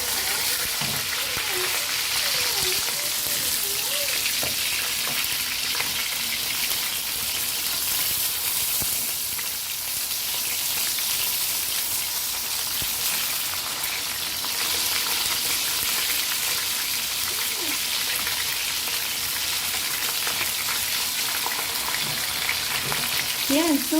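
Fish frying in hot oil until crispy gives a steady, dense crackle and sizzle that stays loud and close the whole time, with no break and no talking.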